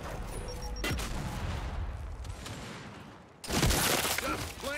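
Rapid gunfire bursts and impacts from the video game Gears 5, crackling in clusters with a louder volley near the end, mixed with game effects.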